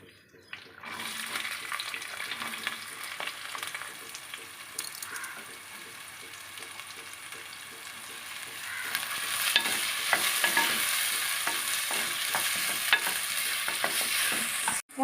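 Cinnamon, cloves, cardamom, a bay leaf and star anise fry in oil in a clay pot, with a soft continuous sizzle that grows brighter partway through, along with light stirring scrapes.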